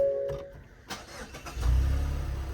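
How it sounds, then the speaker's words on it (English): A Mazda CX-30 engine cranks and catches, then settles into a low, steady idle nearby after a few soft clicks. "turn the car on,"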